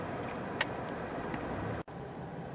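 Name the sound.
2019 Honda Insight Hybrid driving on the expressway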